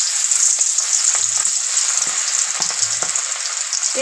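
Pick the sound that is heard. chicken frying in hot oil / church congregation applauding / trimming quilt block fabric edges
chicken frying in hot oil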